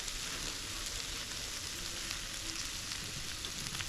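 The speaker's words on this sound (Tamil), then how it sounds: "தேங்காய் சேர்த்து நல்லா கலந்து விட்டுடலாம்" Drumstick leaves and banana flower stir-fried with grated coconut in a pan, giving a steady, close sizzle of frying with faint stirring underneath, continuous and even throughout, no talking.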